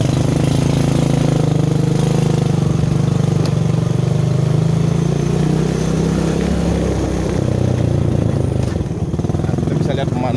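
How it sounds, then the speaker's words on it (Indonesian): A motorcycle carrying goods rolls past in a Bali village, a loud, close engine drone that swells and shifts pitch as it passes, with people talking over it. "Nih ada motor bawa barang nih."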